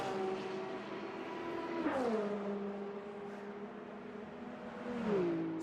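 Race cars in Le Mans Ultimate drone around the track, a steady engine tone with pitch dips at gear shifts or corners and a car sweeping past, heard alone at moderate level.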